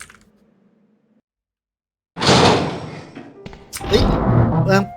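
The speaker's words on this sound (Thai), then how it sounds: "เสียงประตูแม่ง" A door slams loudly in the Resident Evil 3 video game, a sudden heavy bang after near silence, followed by continued rumbling game sounds and talk.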